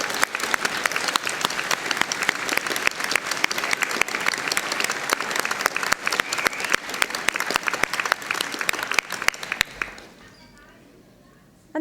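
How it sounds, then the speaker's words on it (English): A large audience at a university degree ceremony in Harrogate applauds for about ten seconds, loud and sustained, before the clapping dies away into quiet and a voice begins. "let's give our supporters a fabulous round of applause."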